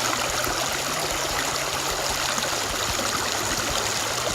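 Steady water of Mission Creek flowing and rippling, a constant close wash of burbling sound with no voices.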